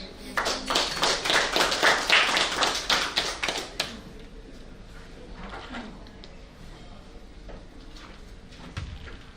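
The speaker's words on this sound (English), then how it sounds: "I think Samira deserves another round of applause" Applause at a WEF 2018 conference parallel session: a burst of close, sharp handclaps for about four seconds that quickly dies away into quiet room noise with faint talk.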